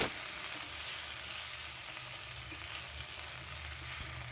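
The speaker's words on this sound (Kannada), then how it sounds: "ಇಲ್ಲಿ ಬದನೆಕಾಯಿ ಹಾಕ್ಕೊಂಡಿದ್ದೀನಿ ಇವಾಗ ಫ್ರೈ ಮಾಡ್ಕೊತೀನಿ" Eggplant pieces fry in oil with a continuous, fairly quiet crackling sizzle and occasional faint stirring clicks, heard alone without talk.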